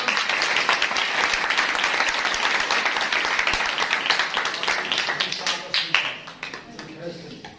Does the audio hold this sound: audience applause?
yes